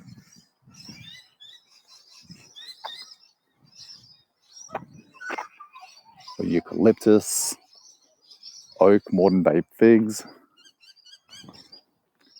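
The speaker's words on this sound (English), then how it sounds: "just absorb the sound of the birds" Birds call and chirp in a botanical garden in Bendigo, Victoria, Australia, home to over 20 species; short high tweets come and go, near and far, between and under a person's speech.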